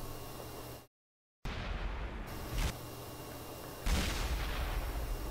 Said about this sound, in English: They have like 5 tanks shooting at one, and he's still alive, bouncing shots.